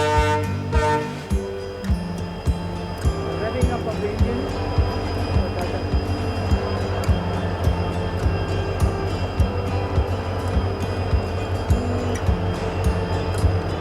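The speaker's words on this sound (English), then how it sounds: "An unusual loco combination, twin WDG4." A passenger express hauled by twin WDG4 diesel locomotives rolls along, a steady rumble with rhythmic wheel clicks over rail joints and a low engine hum, heard from onboard with speech at the start.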